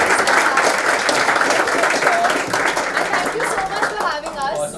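An audience at an annual cultural event applauds continuously, a dense, loud wash of clapping with some cheering mixed in.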